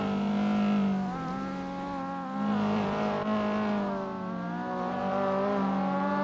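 A race car in the Assetto Corsa sim, on a touge mountain road, with a loud, steady engine that rises and falls through gear changes and a faint tire squeal underneath.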